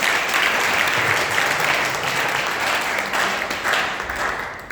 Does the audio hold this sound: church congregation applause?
yes